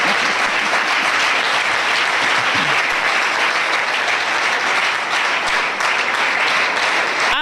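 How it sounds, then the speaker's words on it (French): A church congregation at a French-language benediction service for a first-fruits celebration breaks into loud, sustained applause, dense clapping filling the room without a break. "Ça s'acclame."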